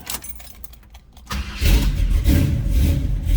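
A 1970 Chevrolet Nova SS Yenko tribute's engine cranks briefly and then catches, settling into a steady, close rumbling idle.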